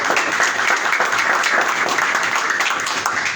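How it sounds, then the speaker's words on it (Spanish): Sustained applause from an audience at a legal talk honoring a doctor, a dense, steady wash of many hands clapping close and loud throughout, with only faint voices underneath. "Le damos un fuerte aplauso"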